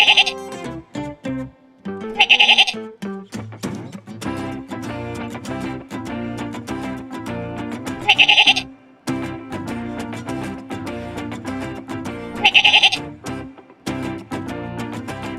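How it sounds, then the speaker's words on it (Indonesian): Farm sheep bleat repeatedly in loud, close calls at irregular intervals, with several overlapping cries and short gaps between them. "Hewan yang mempunyai banyak bulu ini namanya domba. Domba bahasa Inggrisnya sheep."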